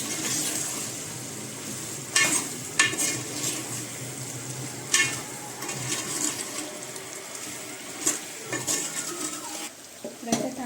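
A spoon stirs chicken curry in a pan for ragi sankati, scraping and clinking against the metal now and then over a soft background sizzle, close by and with no talk.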